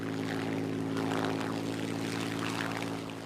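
Supermarine Spitfire fighter plane's propeller engine, a steady droning roar with a strong low hum, loud and unbroken, easing slightly at the end.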